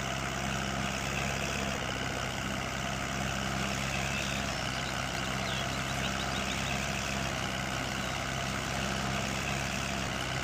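A tractor engine runs in Farming Simulator 19 on the Lipinki farm map, with a stump grinder attached. It holds a steady, continuous idling drone of even loudness, and no one speaks.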